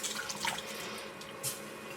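A jar of verde sauce is poured into a pot of water, giving a steady liquid splashing and glugging that runs throughout the clip at moderate loudness.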